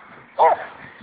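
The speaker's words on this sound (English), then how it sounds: "See, even this dog's unhappy." A dog lets out one brief whimpering yelp, followed by a short bark-like start at the end, with a voice talking around it.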